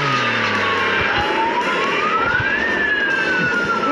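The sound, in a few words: police car siren in a video game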